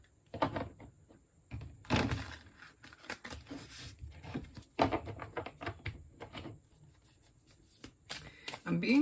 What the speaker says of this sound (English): We're going to continue and pull a couple cards from the Light Seers Tarot deck.